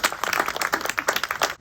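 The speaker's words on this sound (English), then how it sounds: "Give them another round of applause," An audience at a country music trail marker ceremony breaks into a short burst of applause, brisk clapping from a small outdoor crowd.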